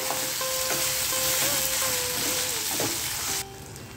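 Steady crackling sizzle of tomatoes sautéing in a pan, with a few clinks and stirring scrapes, then the sizzle softens near the end.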